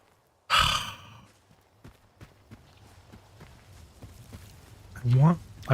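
Mutant pig from S.T.A.L.K.E.R. 2 makes a loud snorting burst, then a run of rhythmic thudding footfalls as it charges, ending in close, heavy grunts.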